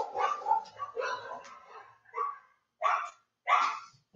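A dog barks angrily in a rapid series of sharp, loud barks near a house gate, with short pauses between bursts and no talking.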